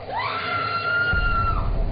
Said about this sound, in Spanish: despertó a todos con un grito aterrador